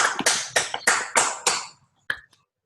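A few loud, close hand claps from a single person at the end of an online physics talk, about six sharp evenly spaced claps followed by a pause and one or two fainter claps.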